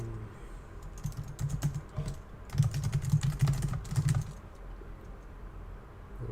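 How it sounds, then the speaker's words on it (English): Bursts of typing on a computer keyboard, quick clusters of soft key clicks separated by short pauses, heard close and fairly quiet without talk. "don't see what I'm typing now."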